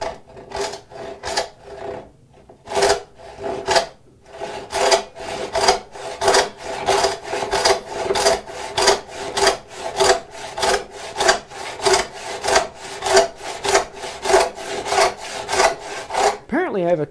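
A hand-held turning saw cuts through wood in a long run of steady, rhythmic push-and-pull strokes. The rasping is close and loud, with a couple of brief pauses near the start.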